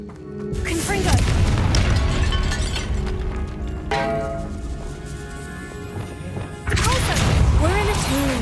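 A Confringo spell explosion in the video game Hogwarts Legacy: loud booming crashes and shattering debris burst out repeatedly, with spoken game dialogue running alongside.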